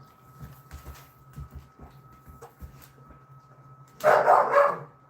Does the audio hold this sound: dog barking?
yes